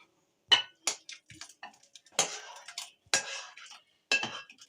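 Mooli palak karhi being served into a dish, with a series of sharp utensil clinks and scrapes against the serving dish, close and clear, with short quiet gaps between them.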